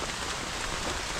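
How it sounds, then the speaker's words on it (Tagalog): Heavy rain pours down on a farm during the rainy season, a steady dense hiss of drops drumming on surfaces, loud and continuous with no talking. "Grabe yung ulan."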